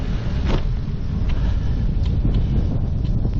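Strong wind buffets the microphone continuously while cycling uphill on the Isle of Wight, a loud, rough roar with occasional gusty peaks and no talk.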